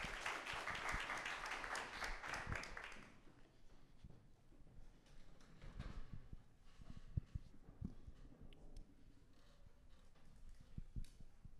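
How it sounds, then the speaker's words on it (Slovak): An audience at a tech meetup applauds a presenter. A burst of clapping fills the first few seconds, then fades to faint scattered claps and quiet room noise. "Tak poprosím potlesk pre našho MJ."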